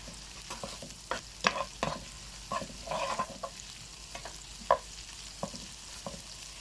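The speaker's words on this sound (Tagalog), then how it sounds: "So, igigisa po natin maigi po yung bawang, sibuyas," Garlic, onion and ginger sauté in a pan as a spatula scrapes and stirs in scattered bursts over a soft, steady background hiss at moderate to low volume.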